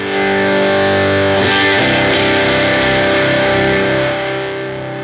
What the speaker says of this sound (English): if you put a champ into distortion mode, just dimed everything